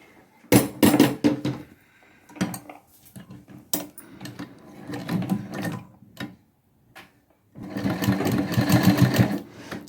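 A sewing machine stitches piping along a curved fabric neckline in several separate bursts of fast mechanical whirring and clatter, close and loud, with short pauses between runs and a longer final run.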